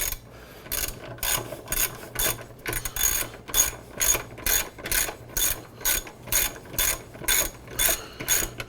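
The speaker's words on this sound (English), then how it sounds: "We're using a 14 millimeter Allen thing, driver, Allen wrench of such." A 14 mm Allen driver ratchets on the front wheel of a Kawasaki Z900, giving a steady run of close, crisp clicking bursts that repeat in an even rhythm, with no talking.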